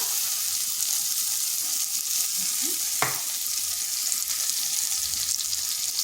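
Soaked chana dal stir-fried in a pan, with a steady frying hiss and occasional scrapes, plus one sharp clink near the middle.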